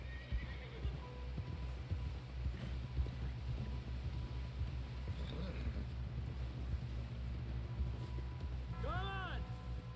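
Horse hooves pound at a steady rhythm in Red Dead Redemption 2, a loud close galloping beat under game music and ambience, with a horse whinny rising near the end while voices speak over it.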